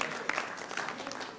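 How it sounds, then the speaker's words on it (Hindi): Audience applause at an India Club awards inauguration in Vancouver, a steady patter of many hands clapping at moderate volume through the whole moment, with no speech over it. "इनके लिए एक बार ताली बजा दीजिए"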